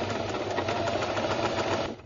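Sewing machine stitching the second seam of a buttonhole, a close, steady, rapid mechanical hum and patter running for about two seconds before easing off.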